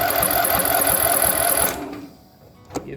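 Small engine fitted with a new carburetor and fuel filter, revved briefly under throttle; a fast, loud buzzing rattle lasts about a second and a half, then cuts off abruptly into near quiet with a small click at the end.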